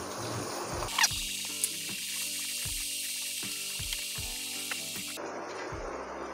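Tomatoes dropped into frying dal mash (urad dal) in a Pakistani-style pan set off a loud, hissing sizzle that lasts about four seconds, then dies back, with steady background music underneath.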